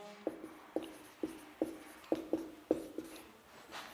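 Pen strokes on paper while plotting graph points, a series of about nine soft, sharp taps and short scratches at an uneven pace, quiet and close with no talking.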